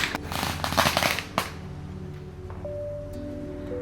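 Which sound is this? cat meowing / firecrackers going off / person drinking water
firecrackers going off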